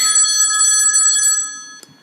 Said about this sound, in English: I could barely make out other phones ringing.